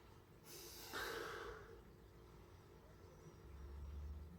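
A short, close sniff of a glass of Phoenix Light lager followed by faint breathing in a quiet room.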